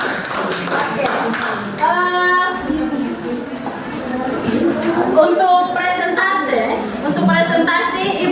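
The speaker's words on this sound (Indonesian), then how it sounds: "Ibu minta tepuk tangan dulu untuk semua anggota kelompok dan ketuanya." Applause from a classroom of students for the student groups and their leaders: a steady, busy patter of many hands clapping for several seconds, mixed with voices.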